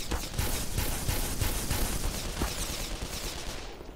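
Enemy gunfire in the Black Mesa video game, a rapid run of sharp repeated shots at a steady rhythm over a noisy background, moderately loud and tapering off toward the end.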